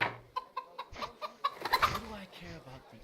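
Chickens cluck in the Kingdom Come Deliverance video game, a run of loud, close, irregular clucks and squawks over about three seconds, with faint background sound.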